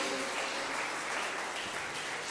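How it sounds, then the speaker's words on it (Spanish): A congregation at a church service breaks into brief, dense applause, a continuous wash of clapping with no speech over it. "Dale un fuerte aplauso a Jesús por eso."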